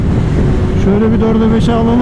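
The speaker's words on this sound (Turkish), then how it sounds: "Rüzgar fena çırpıyor." Loud wind buffeting the microphone on a moving motorcycle, alongside a running engine whose pitch rises, with someone speaking briefly over the noise.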